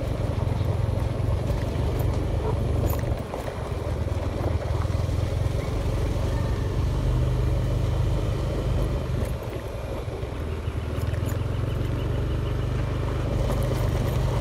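A motorcycle riding over a rough, unpaved road, its engine giving a steady low drone with road rumble and wind noise throughout, continuous and fairly loud with no talk.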